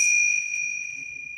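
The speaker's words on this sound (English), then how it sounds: "I'm just going to chime the bells" A meditation chime bell is struck once during a guided group healing meditation, leaving a clear, sustained ringing tone that slowly decays, close and alone with faint room noise beneath.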